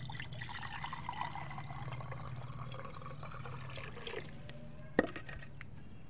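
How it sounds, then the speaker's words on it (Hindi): Water is poured into a clay pot set over a fire outdoors, giving a soft, steady trickle at low volume, with a sharp clank near the end. "अभी हम इसमें डालेंगे पानी।"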